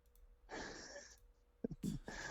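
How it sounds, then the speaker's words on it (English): A big yawn on a live stream: a long breathy exhale that swells and then trails off, followed by a brief gulp and a second breathy sound, heard up close with no talking. "Good old big yawn there, buddy."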